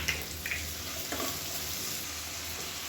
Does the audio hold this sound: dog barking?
no